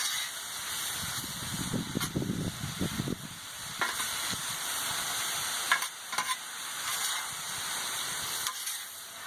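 Steak frying in a pan outdoors in the sun, a steady close sizzle running throughout with occasional sharp crackles and pops, no talk.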